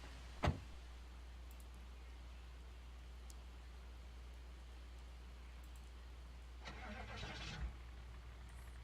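A car engine starting in the video game Project Zomboid, a short mechanical crank near the end over a steady low hum and light rain, fairly quiet.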